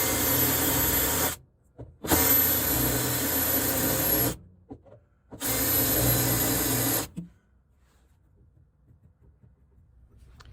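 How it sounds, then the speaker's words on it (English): Drill cutting spot welds on a 1967-1972 GM truck rocker panel: three loud, steady whirring bursts of a few seconds each with short gaps, then quiet workshop sounds. "So I got all the spot welds cut."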